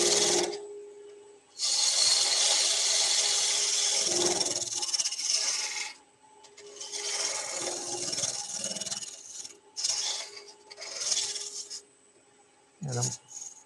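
A lathe tool cuts a small chamfer into turning wood. Long, loud rasping cuts with short pauses between them run under a steady machine hum, heard up close.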